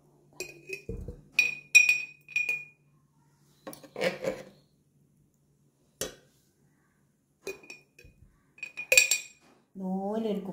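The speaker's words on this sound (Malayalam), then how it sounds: "എന്നാൽ നമുക്ക് ഈ അച്ചാർ ഇതിലേക്ക് ഇട്ട് കൊടുക്കാം." Gooseberry pickle is spooned into a dry glass bottle, giving sparse, sharp clinks and taps of a utensil against glass amid quiet gaps. A brief voice is heard at the end.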